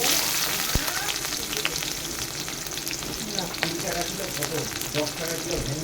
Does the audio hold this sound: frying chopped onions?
yes